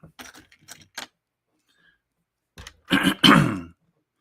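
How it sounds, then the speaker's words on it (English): A few soft, scattered noises, then a harsh throat clearing in two loud, rough bursts close to the microphone. "I'm sorry for clearing my throat."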